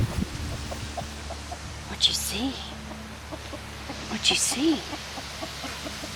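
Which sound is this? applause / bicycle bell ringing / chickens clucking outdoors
chickens clucking outdoors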